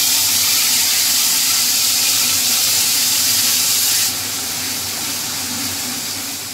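Tomato, ginger and green chilli paste hitting a hot pan, a loud steady hiss of sizzling and steam that drops slightly in level partway through, with no talking.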